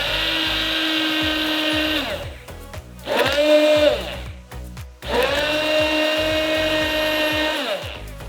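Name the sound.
immersion blender mixing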